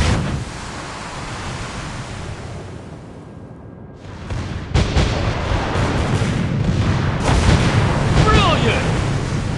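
Naval gunfire and explosions in a warship video game with a French destroyer Fantasque: a quieter noisy stretch, then loud broadband booms and rumbling blasts from about four seconds on, with dense battle noise continuing.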